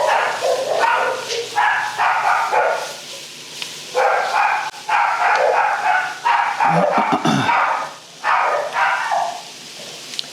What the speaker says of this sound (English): why are the dogs going crazy?